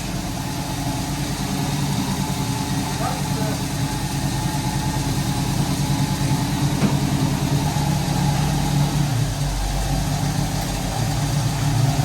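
An El Camino's engine idles steadily in reverse with a low rumbling drone throughout, with faint voices talking nearby.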